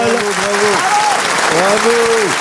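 Sustained studio audience applause, dense and loud, with a voice talking over the clapping.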